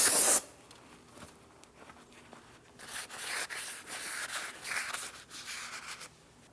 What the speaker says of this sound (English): We'll use some parts cleaner.